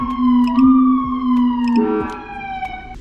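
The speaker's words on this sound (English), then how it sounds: "this row is just additional siren tones." Police siren tones from a CenCom Core siren controller fitted to a 2021 Chevy Tahoe, loud and close, sweeping and wailing steadily with a shift in pattern midway, with no voices over it.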